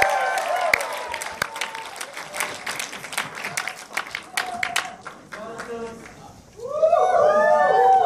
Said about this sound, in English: Please let us give a hand of applause for African community!